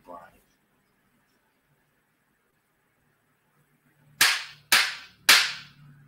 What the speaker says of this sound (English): I gotta bang the gavel on you, Brian.